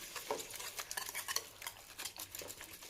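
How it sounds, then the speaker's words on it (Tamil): Eggs with onion and curry leaves are beaten in a bowl for an omelette, giving quick irregular clinks and scrapes of a utensil against the bowl, faint and close, with no talking. "கலக்கி விட்டுட்டு நல்லா அடிச்சிடணும்"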